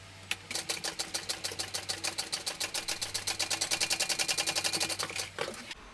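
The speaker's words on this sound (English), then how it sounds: "I can top stitch down this pink side" A sewing machine top-stitches down one side of a small fabric piece, its needle thumping in a fast, even rhythm for about five seconds over a steady motor hum.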